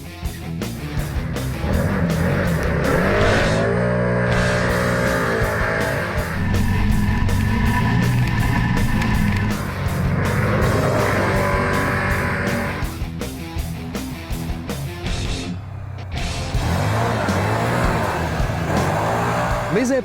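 A 2018 Can-Am Maverick Trail DPS 1000 side-by-side drives with a loud, continuous engine drone that rises and falls in pitch as it accelerates and shifts, sustained for about twenty seconds.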